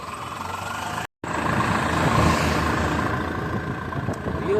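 An auto rickshaw engine runs continuously from inside the passenger seat at the back, a dense, rough mid-pitched rumble with one brief dropout, loud and close with no talk.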